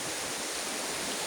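Large waves surge at an open beach, a dense continuous roar of surf with no breaks or voices.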